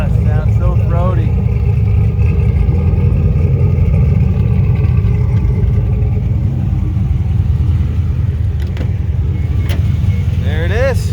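1987 Pontiac Trans Am GTA with a 400 engine making about 500 hp and a 5-speed, a deep, throaty rumble that rises and settles at close range while someone talks over it.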